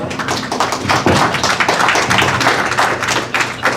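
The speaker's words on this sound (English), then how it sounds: "Please give him a round of applause." Audience applause at a stand-up comedy show, a dense, steady round of clapping filling the room at full volume for the whole stretch.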